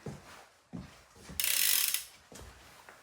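A bicycle wheel spun after its hub was tightened, with the freehub ratchet clicking: a few soft knocks, then a short, loud buzzing spin that fades out, with no talking.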